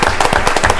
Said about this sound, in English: We'll give them a hand then